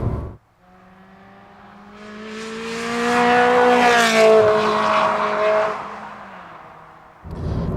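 A Ferrari 360 Challenge Stradale engine revs loud and close, climbing steadily in pitch, holding a high howl for several seconds, then easing off, with no voices over it.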